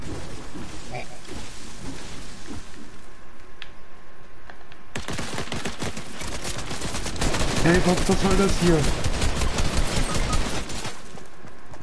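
Rapid bursts of video game gunfire, dense crackling automatic shots that grow louder partway through, with a player's voice speaking over the action.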